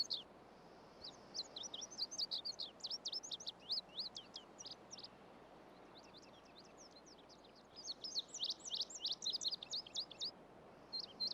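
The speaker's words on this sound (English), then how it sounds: "Birdsong was the first music ever heard by human ears." Spring birdsong in the wild: bursts of high, rapid chirps and trills repeat in clusters over a steady, faint background hiss, pausing briefly in the middle before resuming.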